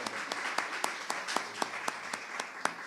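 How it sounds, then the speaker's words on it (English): Applause for a guest presenter at an evening business alliance meeting, a small group clapping in a steady scattered patter with a few sharper individual claps standing out over about three seconds. "Let's give Ms. Sandra an applause and thank her."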